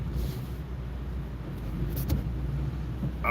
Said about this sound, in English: I'm parking my car. I'm in the garage right now.